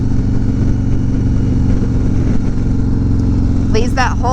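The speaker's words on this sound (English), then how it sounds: "It's got a D&D Billet Cat exhaust." Harley-Davidson Street Glide motorcycle fitted with a D&D Billet Cat 2-in-1 exhaust, idling with a deep, loud, steady low rumble throughout, and brief voices join near the end.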